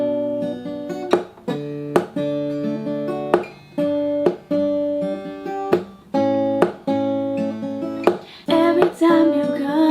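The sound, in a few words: acoustic guitar picking pattern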